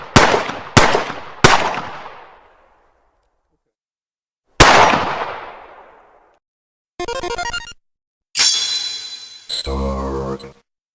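Flintlock pistol shots in the video game Salt and Sanctuary: four sharp, loud cracks with long ringing decays, then several short buzzy, tonal game sound effects near the end.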